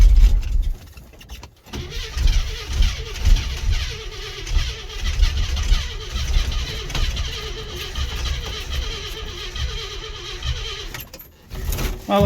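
An International truck engine cold-starts after sitting in a snowbank, an old motor that burns a lot of oil. It cranks briefly, then catches and keeps running with a rough, throbbing idle at close range, and a short dip comes near the end.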